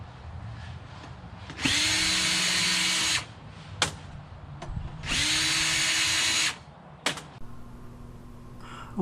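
A power drill unscrews the casing of a scrap microwave in two loud whirring bursts of about a second and a half each, with clicks and clunks of metal parts between them, close up.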